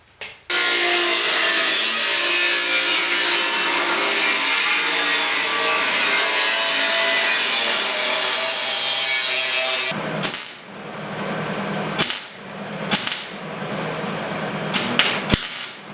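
A 1969 Ford Bronco passenger quarter panel being cut across the top gives a loud, steady rasping cut for about nine seconds, then stops and starts in short, sharp bursts.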